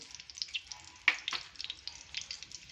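Cumin seeds frying in hot oil in a large kadai: a faint, steady sizzle with small crackles and one sharper pop near the start, no voices.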